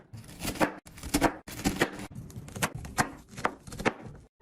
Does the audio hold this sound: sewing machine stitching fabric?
no